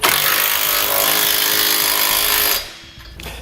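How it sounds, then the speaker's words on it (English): A power tool snugs up trailer hitch hardware on a 2015 BMW X5 while a Curt hitch receiver goes in: a loud, continuous rattling whir that stops abruptly near the end, leaving quieter shop noise behind. "You're going to want to come back with a 3/4 inch socket and snug up all the hardware"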